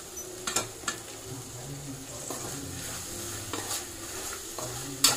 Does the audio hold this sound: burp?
no